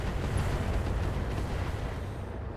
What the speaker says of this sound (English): We're trying to ping the head with a bunch of mortars.